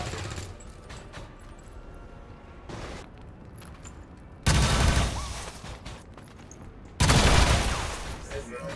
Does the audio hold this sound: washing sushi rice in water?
no